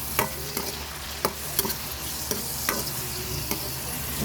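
Chayote, sardines and tomato sauté in a pan, a steady sizzle broken by regular spatula scrapes and taps against the pan roughly every half second, close up with no voices.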